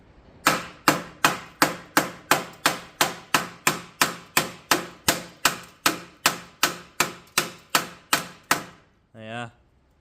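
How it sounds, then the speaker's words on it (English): Rusty bodywork on a Corsa B wing being tapped with a hammer, about twenty sharp evenly spaced metallic knocks close up, followed by a short voice at the end. "Let's do a tap test of the rust."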